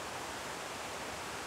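The Ffrwdgrech waterfall in Wales gives a steady, dense rushing roar of falling water with no breaks and no voices.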